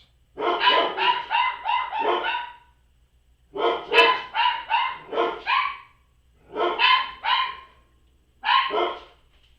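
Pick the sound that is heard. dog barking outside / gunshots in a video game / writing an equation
dog barking outside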